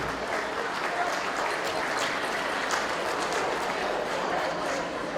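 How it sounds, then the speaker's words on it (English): Guests at a Nowruz gala applaud the staff, sustained even crowd clapping filling the room at moderate loudness for several seconds. "Could you please give my staff a round of applause?"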